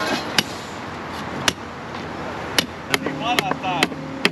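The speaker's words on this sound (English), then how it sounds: "Can you nail and kick that board he's pushing on?" A hammer nails a wooden form board at a large concrete pour, giving several sharp, separate strikes at irregular intervals over a low background hum, with a voice briefly heard near the end.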